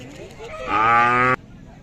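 A Khillar cow at a cattle market in Sangola lets out a single loud, close moo that rises and then cuts off abruptly, with a quieter lowing lead-in.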